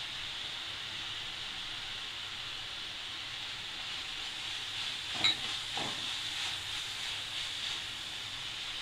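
Garlic goes into onions and fennel already frying in a pan for a shark-fish scramble, and a soft, even sizzle continues with a couple of brief stirring scrapes partway through.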